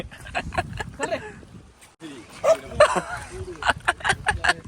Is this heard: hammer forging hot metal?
no